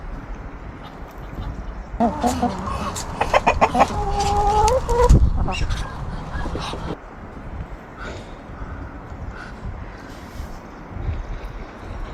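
Chickens in a garden chicken coop beside a vegetable plot cluck and squawk in a lively burst midway. Quieter outdoor ambience surrounds them before and after.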